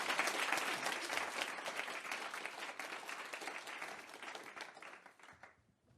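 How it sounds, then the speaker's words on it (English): A crowd applauds panelists at the close of a discussion on pandemics and climate-sensitive infectious diseases, a dense, steady wash of clapping that tapers off near the end. "So quick round of applause for our panelists."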